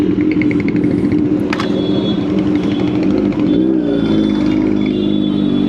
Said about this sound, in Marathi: अरे बाबू हे ट्रॅफिक काय